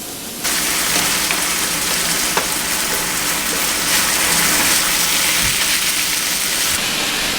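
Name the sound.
ground beef frying with onions in pan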